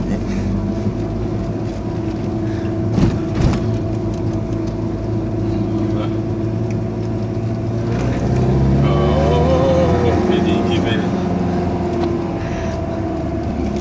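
Opel Astra turbo car heard from inside the cabin: a steady, loud engine drone with a rise in revs partway through, under a continuous rumble of road noise, with occasional faint voices.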